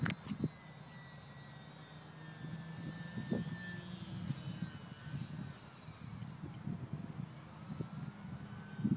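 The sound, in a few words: E-flite UMX Sbach RC plane motor at low throttle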